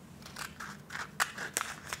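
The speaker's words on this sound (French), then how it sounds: "il va falloir hop, couper avec une paire de ciseaux" Scissors cut through a cardboard roll, giving several crisp snips and crunchy cracks spread irregularly over about two seconds, close and fairly quiet with no voices.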